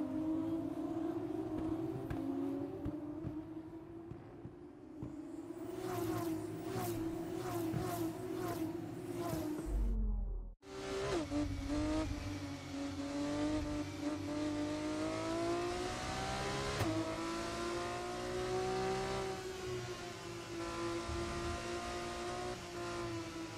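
Formula 2 race cars on the formation lap in the F1 24 game, engines droning and revving together at a steady high pitch, with one brief dropout before the roar picks back up.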